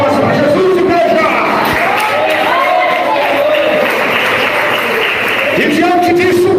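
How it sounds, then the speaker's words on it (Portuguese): A church congregation claps together through the whole stretch, steady and fairly loud, with crowd voices and singing-like tones mixed in. "Palmas para Jesus, igreja."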